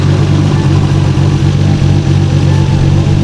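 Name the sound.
car engine camshafts running in engine bay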